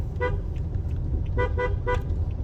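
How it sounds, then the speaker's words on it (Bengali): A car horn toots once, then three quick honks follow over a low engine rumble as the car crosses a bridge. "আর হর্নের উপর ছিলাম, 4-5টা হর্ন দিয়ে ফেলছি"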